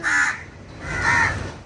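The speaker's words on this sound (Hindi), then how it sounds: "गोले के फ्रेंड्स है कौए" Crows cawing outdoors at a birthday gathering while being fed, two loud harsh calls in quick succession, fairly close, with no talk over them.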